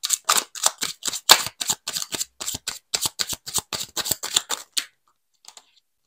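Tarot cards are shuffled in a quick series of crisp riffling snaps, about twenty close, sharp bursts in a steady rhythm that stop abruptly, leaving near silence with a faint tap.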